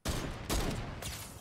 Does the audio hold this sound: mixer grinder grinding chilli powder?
no